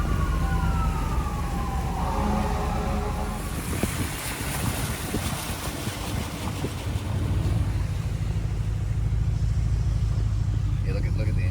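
An ambulance siren sweeps through hurricane conditions in Central Florida, its falling wail clear at first, then buried under a roaring gust of wind and rain, with voices talking nearby.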